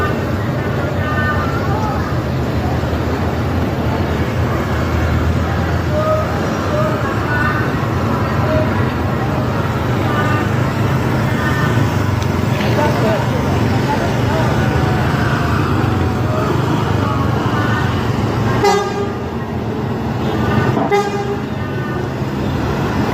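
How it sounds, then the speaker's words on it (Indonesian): Miyor Gamika intercity bus from Jakarta pulls out of the Solok bus terminal in Indonesia, a steady engine rumble amid terminal traffic noise, with a couple of horn toots near the end and someone talking over it. "Nior Gamika dari Jakarta meninggalkan Terminal Bus Solo"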